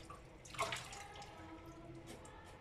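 Ginger and turmeric being washed at a sink, a quiet splash of running water early on followed by faint trickling and dripping, close by and without talking.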